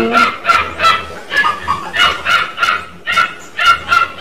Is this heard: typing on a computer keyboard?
no